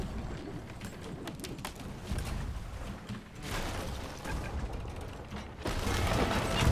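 A ship's cannon loading mechanism in a video game makes steady creaking, ratcheting and gear-like clanks, with chain rattle running continuously and growing louder toward the end, with no voices over it.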